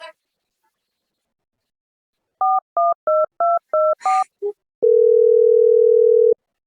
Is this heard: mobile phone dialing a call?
yes